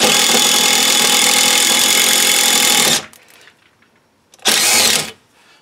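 An impact driver with a step drill bit roars loudly for a few seconds as it drills, stops, then gives a second short burst after a quiet pause.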